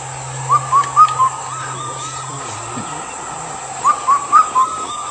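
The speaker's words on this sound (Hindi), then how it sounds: "जाते जाते उस पक्षी के आवाज़ को भी सुनते जाइए जो कहती है काफल पक गए।" A bird in Uttarakhand, the kafal-pakko, gives two clear phrases of four short whistled notes each, separated by a pause, heard at moderate distance over a soft background hiss.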